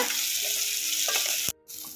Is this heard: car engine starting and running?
no